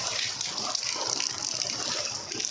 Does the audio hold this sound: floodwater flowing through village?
yes